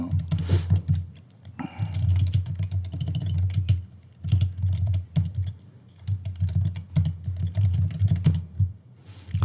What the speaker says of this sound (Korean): 하루 종일 키보드 소리만 듣고 계실 것 같습니다.